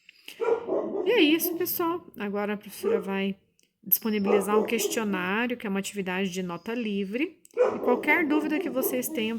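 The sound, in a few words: dogs barking and whimpering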